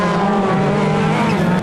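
A rallycross car screams through the last corner at a 2019 World Rallycross qualifying round in Norway, its engine loud, close and sustained with a steady high-revving roar and faint tyre noise throughout.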